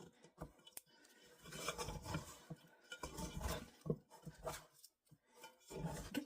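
A Danish dough hook scrapes and stirs sourdough in a bowl, making close, uneven rubbing and scraping strokes with short pauses and occasional light knocks.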